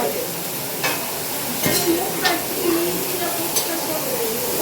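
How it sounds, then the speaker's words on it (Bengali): Steady sizzling of cauliflower frying in a pan, with occasional scrapes and stirring clinks over the hiss. "ফুলকপিটা ভাজা করে নিচ্ছি একটু"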